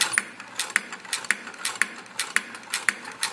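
A liquid limit device for soil testing is cranked steadily, giving sharp mechanical clicks that repeat in an even rhythm roughly twice a second over a faint whirring hum, with no voices.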